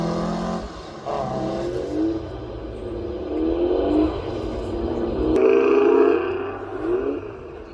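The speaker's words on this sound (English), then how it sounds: "Austin Healy Sprite, but a lightweight Sebring model." A lightweight Austin Healey Sprite Sebring, an unmodified period car, races up the Craigantlet hillclimb, its engine revving hard through several rising gear pulls, loud and close as it accelerates past.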